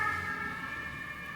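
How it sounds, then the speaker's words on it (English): An ambulance siren wails on the street outside, carrying steadily at moderate distance with a sustained tone and faint traffic underneath. "I hear the ambulance on the street"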